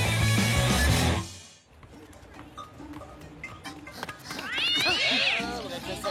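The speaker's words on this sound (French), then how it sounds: "Ah, c'est le chat, il se bagarre encore." Loud, harsh cat yowling opens, drops to quiet rustling, then a wavering caterwaul rises again; agitated cats snarling and crying close by.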